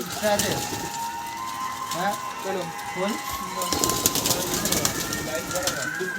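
Several Madrasi (Andhra tippler) pigeons coo softly in low, rolling calls, repeating every second or so against a busy background with some rustling and clatter.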